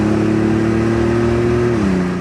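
A 1987 Buick Grand National with the turbo 3.8 engine downshifting on a test drive, its steady mid-pitched engine drone close and loud, dropping in pitch near the end as the gear changes.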